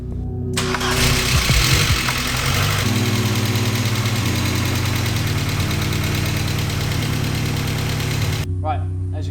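An Audi 80 engine starts and settles into a rough, uneven idle after a timing adjustment, running steadily and close, with a person talking over it.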